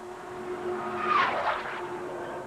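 A race car skids at around 150 mph on the back straightaway during a 1997 NASCAR Gargoyles 300 broadcast feed, a brief tire screech rising over a steady distant engine drone before fading.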